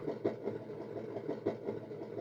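Simulated engine sound from a Tamiya MFC-02 multi-function control unit in a Toyota Tundra High-Lift RC truck, a steady rumbling drone with regular pulsing throbs, close and moderately loud, with no talk.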